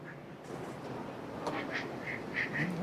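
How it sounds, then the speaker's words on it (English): Ducks quack repeatedly near a mill spillover, several short nasal calls clustered in the second half over a steady wash of flowing water. "Look at all the beautiful ducks."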